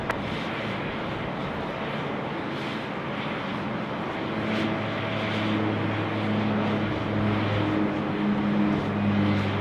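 A fixed-wing passenger jet lands on runway 34 left at Sydney Airport, its engine roar a steady, moderately loud drone that swells slightly toward the end, heard from a distance with no voices.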